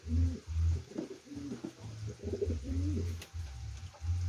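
A pigeon coos close by in a series of soft, rhythmic throaty phrases with short pauses between them, heard alone with no talking.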